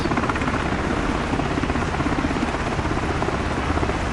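A Hiller UH-12B helicopter engine in Microsoft Flight Simulator 2024 runs steadily through the whole stretch, a dense, loud, continuous rotor and engine roar with no talk over it.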